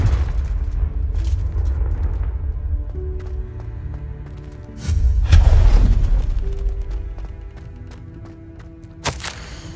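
A Confringo blasting spell in Hogwarts Legacy goes off as a deep, loud booming explosion. It sits amid layered game sound effects and is followed by a sharp crack near the end.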